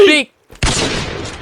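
A single loud gunshot in the survival game Sons of the Forest cracks out right after a brief voice and a short silence, then rings and fades for about a second.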